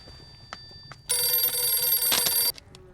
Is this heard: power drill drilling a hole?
no